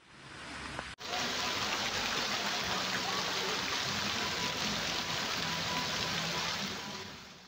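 Heavy rain pours steadily in a city after a hailstorm, a loud, dense broadband hiss of rainfall that starts abruptly after a brief quieter moment and continues unbroken, with water rushing over surfaces.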